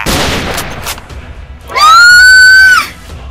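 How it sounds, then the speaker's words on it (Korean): In a Minecraft roleplay game, a loud, sustained high-pitched scream rises and holds for about a second near the end, after a burst of noisy impacts and a short gap of quiet. "이 비명 소리는"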